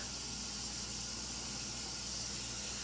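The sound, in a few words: cool tap water running into sink to drain pasta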